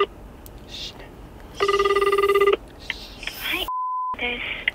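A phone call being placed to a real estate agent: a quick burst of rapid keypad dial tones, then a single steady ringback tone, with people talking quietly before and after.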